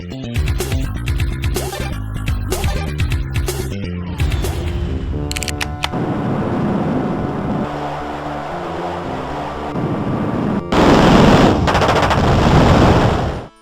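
Rapid gunfire and chiptune music from a Jazz Jackrabbit-style MS-DOS platformer game, a green rabbit firing a gun amid dense, continuous bursts of shots and effects, loud and busy, ending in a harsh noisy blast.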